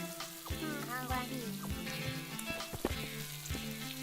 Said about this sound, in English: I love hearing the grape sizzle